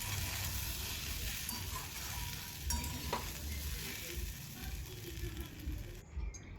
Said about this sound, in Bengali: এবার আমি ভেজে রাখা যে সয়াবিনগুলো সেগুলো সবজির সঙ্গে মিশিয়ে দিচ্ছি।